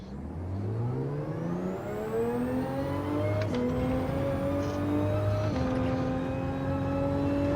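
The engine of a Toyota Supra GR2 race car in Gran Turismo 7 at Le Mans climbs steadily through the gears, a sustained loud whine with brief dips at each upshift, alone without talk.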